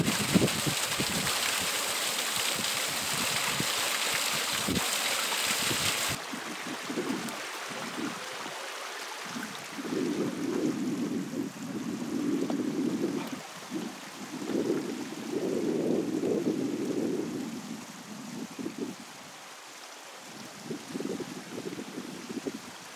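Waterfall on Middle Fell, a continuous broad rushing hiss of flowing water, loud at first, then steadier with breathy gusts and low rumbling bursts from nearby movement over the top.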